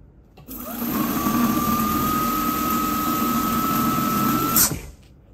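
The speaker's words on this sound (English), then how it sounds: "Look what happened when I push the brake." An INOKIM OX electric scooter fitted with Jager four-piston hydraulic brakes spins and whines steadily with a sustained motor tone, then stops sharply about four seconds later with a brief squeal before falling quiet.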